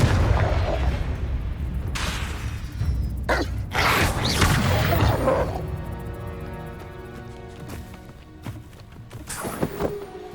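Spell explosions from the video game Hogwarts Legacy burst loudly in a rapid series of booms and crackling blasts, then fade into ringing tones and scattered pops.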